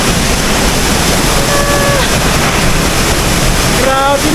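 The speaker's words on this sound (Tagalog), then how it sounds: "Lalapit kami sa falls" Santorre's resort waterfall in Biliran roars as one steady, loud broadband rush of falling water. It runs unbroken and close throughout, with faint whistles briefly over it.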